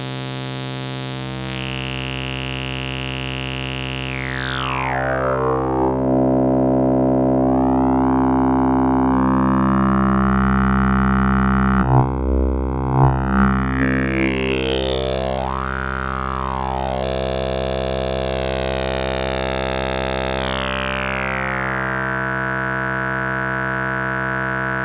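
A heavily processed phase distortion synth tone in Mela 6.9, pitched down an octave, deep and distorted, sweeping and warping in pitch with metallic, siren-like glides over a sustained low drone.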